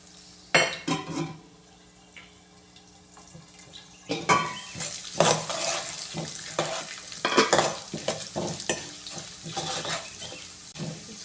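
Mustard seeds, urad dal and chana dal roast in a hot pan with a light sizzle, stirred by a metal spoon that scrapes and clinks against the pan in close, irregular bursts, no talking.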